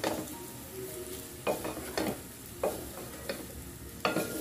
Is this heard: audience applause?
no